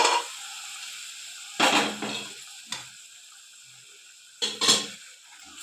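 Dal with tomato, onion and garlic is stirred in a sizzling pan, with a steady frying hiss broken by a few scraping strokes of the spoon.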